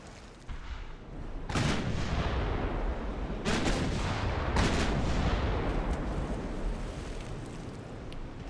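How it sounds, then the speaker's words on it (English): Naval gunfire in the warship game Ultimate Admiral Dreadnoughts: three heavy booming salvos spaced a couple of seconds apart over a constant roaring wash of wind and sea. "Open up the angle so we can get more guns on target."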